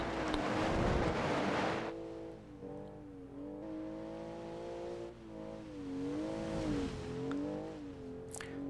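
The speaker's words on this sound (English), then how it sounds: "Now this car sounds great" An off-road Baja competition car engine, its mufflers probably gone, revs loudly and steadily, the pitch swelling and dipping in repeated waves after a short burst of rough, wind-blown rumble at the start.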